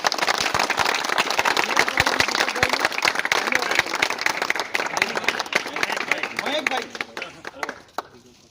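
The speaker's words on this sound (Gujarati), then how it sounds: "એકવાર જોરદાર તાળીઓ" Loud, sustained applause from a youth group on an industrial visit, dense clapping throughout with voices mixed in, fading out near the end.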